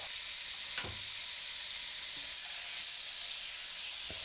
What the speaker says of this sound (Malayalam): ഇതിലോട്ട് കട്ട് ചെയ്ത് വച്ചിരിക്കുന്ന ചിക്കൻ ഇട്ട് മിക്സ് ചെയ്യുക